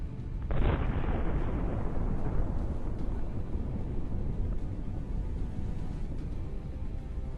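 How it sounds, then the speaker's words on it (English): A powerful explosion strikes Russian tanks under a clear blue sky, a sudden loud blast at the start that rolls into a long, heavy rumble and fades slowly into sustained low roaring. "Incredible explosion creates a new cloud against the blue sky"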